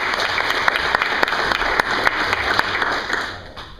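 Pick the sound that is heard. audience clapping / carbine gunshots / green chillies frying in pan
audience clapping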